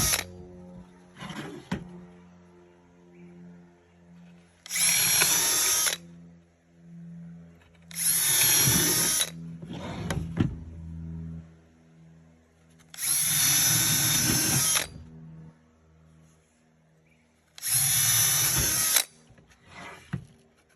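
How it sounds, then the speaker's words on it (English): Power drill boring into a wooden treasure box lid in four loud, sustained bursts of roughly two seconds each, separated by quieter gaps with brief shorter whirs, close to the listener. "I'm going to be using a power drill."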